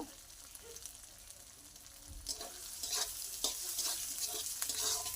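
Green chillies and chopped tomato are stirred through a sizzling frying pan, with a steady fry hiss and scraping strokes that grow louder and busier in the second half. No one speaks.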